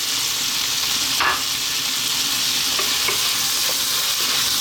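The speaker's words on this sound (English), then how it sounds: "Now we're going to get a little bit of salt in there. And we're going to add that fresh tomato." Fresh tomato hits garlic ginger paste and salt in a hot pan, giving a loud continuous close sizzle with faint stirring clinks, with no talk over it.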